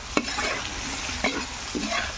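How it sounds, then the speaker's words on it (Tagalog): Sautéed pinakbet with shrimp paste is stirred in a sizzling pan, three distinct scraping strokes of the spoon over a constant close frying hiss. "Haluin lang natin."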